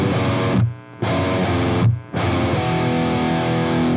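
Heavily distorted electric guitar plays a fast riff with both notes on the descending part, three loud chugging bursts split by two short gaps, alone and close.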